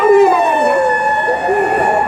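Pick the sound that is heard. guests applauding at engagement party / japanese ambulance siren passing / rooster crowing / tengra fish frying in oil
japanese ambulance siren passing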